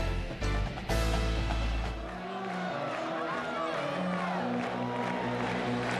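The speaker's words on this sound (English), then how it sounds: "Part of the capacity crowd here tonight" A capacity stadium crowd at a college football game between Iowa State and Kansas in Lawrence, Kansas, makes a broad, steady murmur and roar beneath someone talking.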